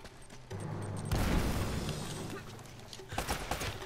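A grenade blast in the video game Uncharted erupts into a loud, broad rumbling boom that holds for a couple of seconds, followed by scattered crackling debris near the end.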